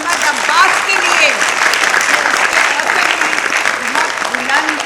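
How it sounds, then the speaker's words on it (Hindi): A theatre audience at an Urdu play applauds the performers with dense, sustained clapping, loud and close, while voices mingle faintly in the crowd. "सब फनकारों के लिए बाआवाज़ बुलंद तालियां"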